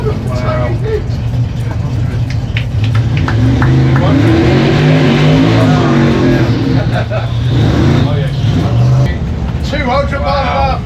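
A race car making a 200 mph pass roars loudly, its engine note swelling and then fading, with people talking over the noise.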